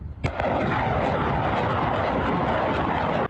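Rocket artillery fires outdoors. A sharp launch blast is followed at once by a loud, sustained roar that fills the whole stretch without a break.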